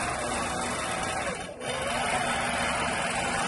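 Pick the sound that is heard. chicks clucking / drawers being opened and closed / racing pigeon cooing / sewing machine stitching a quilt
sewing machine stitching a quilt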